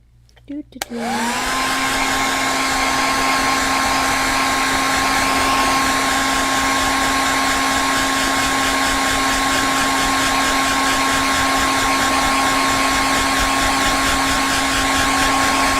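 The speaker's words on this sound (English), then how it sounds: "I'm gonna pull out that hairdryer again" A hair dryer switches on and runs steadily, a loud continuous whirring roar with a constant whine, no voices.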